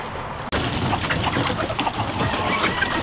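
Chickens on a Hmong American chicken farm cluck and call in a busy, continuous chorus close by, after a brief cut at the start, with no talking over them.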